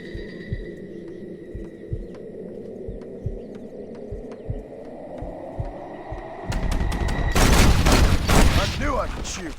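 Gunshots in a duel in the video game Red Dead Redemption: a slow, steady, heartbeat-like thumping builds tension, then gives way to a loud, sudden volley of shots ringing out over music.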